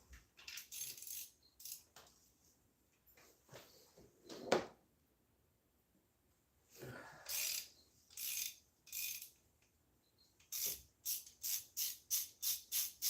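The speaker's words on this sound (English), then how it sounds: "I'm gonna back off this nut on the stud a little bit so I can get these bolts aligned" Ratchet clicking as a nut is backed off a stud on the alternator bracket of a 1996–2005 Chevy Astro van, heard in several bursts of rapid close clicks separated by pauses, with a final steady run of evenly spaced clicks.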